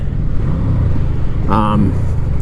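A 1996 Yamaha VMAX motorcycle engine runs at a steady idle, a loud close low rumble filling the whole clip, while someone talks over it.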